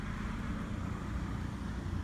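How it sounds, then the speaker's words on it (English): A pressure washer runs somewhere in the background at a campsite out in nature, a steady broadband rumble and hiss with no break across the whole two seconds. "Please excuse the background noise. Somebody's doing a little bit of a"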